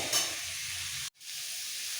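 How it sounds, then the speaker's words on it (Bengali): Pieces of papaya and potato frying in a pan, a steady close sizzle with a brief stir at the start, cutting out for a moment before the frying hiss resumes. "এবার পেঁপে আলু একটু ভেজে নিতে হবে"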